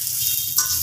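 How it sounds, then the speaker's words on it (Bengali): Chopped onion and garlic fry in hot oil, a steady bright sizzling hiss that swells slightly partway through, close and fairly loud, with no one speaking. "এবার পেঁয়াজ রসুনগুলি ভালো করে একটু তেলে নেব।"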